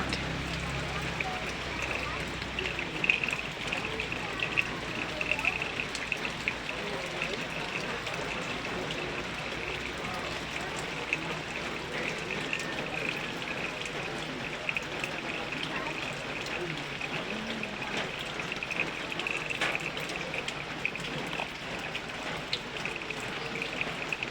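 Rain falling on a hot morning in the Philippines, a steady soft hiss of drops pattering on surfaces, fairly faint and continuous for the whole stretch.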